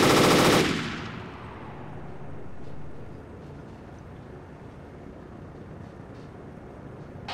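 Helicopter cannons fire in a video game in one loud, dense burst at the start, then decay into a long rumbling tail with a lower hum that continues underneath, no voices present.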